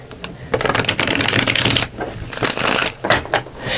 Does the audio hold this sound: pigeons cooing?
no